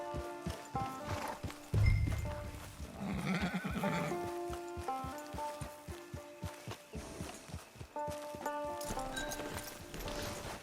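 Horses in Red Dead Redemption 2 walking with steady clip-clopping hooves, a whinny and snort partway through, game music and ambience underneath.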